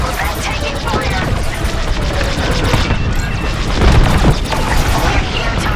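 Dense starfighter gunfire and booming explosions fill a space battle in the Star Wars Squadrons video game, with a continuous loud barrage that swells near the end under occasional radio chatter.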